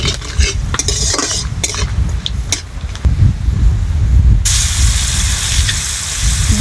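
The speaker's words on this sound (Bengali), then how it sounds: "শুকনো লঙ্কা, গোটা গরম মশলা দিয়ে দিচ্ছি। এবার এটাকে ভেজে নেব।" Dried red chilies and whole garam masala spices fry in hot oil in a pan, with a steady sizzle, stirring and scraping metal utensil clinks throughout, and the hiss brightens and swells loudly in the last couple of seconds.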